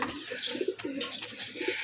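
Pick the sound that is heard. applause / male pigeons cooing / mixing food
male pigeons cooing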